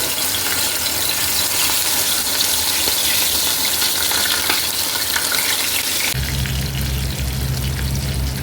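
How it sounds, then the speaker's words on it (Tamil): Fish fries in oil in a pan, a loud, dense, close sizzle that runs unbroken before shifting abruptly to a lower rumbling hiss near the end, with no voices. "பொரிச்சிடலாம் மீன்."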